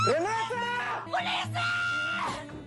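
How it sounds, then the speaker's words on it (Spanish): A cameraman screams as he falls, a loud, close, sustained yell with wavering pitch that carries for a few seconds. "Es un camarógrafo que cae y al caer grita."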